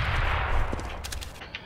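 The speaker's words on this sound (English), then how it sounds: "I'm throwing a grenade." A grenade is thrown in a first-person shooter game: a dense burst of blast noise up front fades into a few sharp crackling pops, brief and moderately loud.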